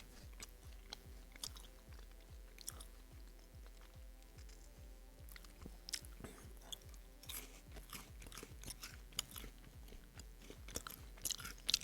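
Close, crisp crunching and chewing of a Halloween Kit Kat chocolate wafer bar, steady rhythmic bites repeating quietly with no talking.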